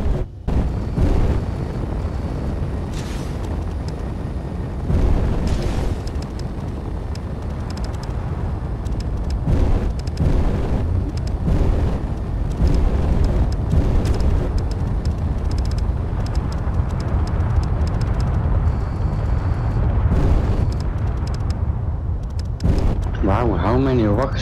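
Rocket explosions tear apart an outpost in the video game Space Engineers, a dense, loud rumbling barrage of blasts layered with engine and wind-like roar for the whole stretch, with voices talking over it.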